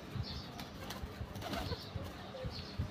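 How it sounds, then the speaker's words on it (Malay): A pet pigeon or dove coos softly in a home, low repeated murmuring calls with light wing flutters and rustling, close by. "Ini adalah burung kesayangan saya."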